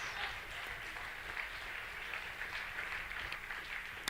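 A church congregation claps during a prayer service, a quiet, distant, steady patter of hands with no voice over it.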